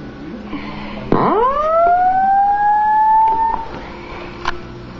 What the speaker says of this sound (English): So here's what my fire alarm sounds like activated.